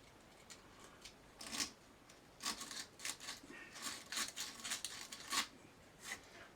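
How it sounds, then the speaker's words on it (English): Sandpaper rubbed by hand on a small part of a Fidelity Argyll Minor tape recorder, giving quiet, irregular bursts of dry scratchy rasping separated by short pauses. "get a bit of sandpaper"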